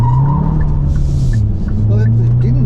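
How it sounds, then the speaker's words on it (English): Hyundai Grandeur performance hybrid sedan accelerating hard with wheelspin: a loud, steady engine and tyre drone with brief scrabbling texture, close by, with people talking over it. "it didn't mind spinning the wheels there"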